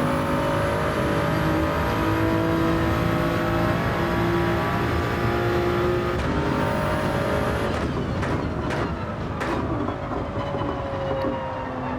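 Race cars lapping a track through a chicane in Gran Turismo 7, giving a steady, loud engine drone with layered whining tones that shifts pitch, then sharper bursts and clatter toward the end.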